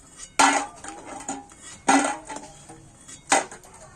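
Boiled eggs are lifted out of a pot, making three distinct clattering clinks of utensil against metal spaced apart, with quieter rattles between them.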